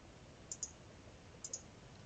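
A computer mouse clicks while pasting in Microsoft Word: two quiet double clicks about a second apart, sharp and close against near silence.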